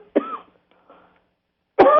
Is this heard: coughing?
yes